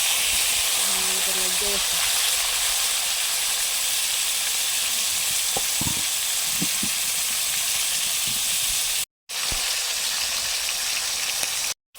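Fish frying in oil, a loud continuous sizzling hiss filling the whole stretch with a few faint knocks, briefly cut off near the end.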